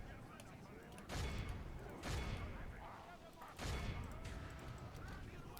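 A volley of gunfire from troops in a strategy video game, three loud crackling salvos spaced about a second apart over a steady battle din, with a voice talking under the noise.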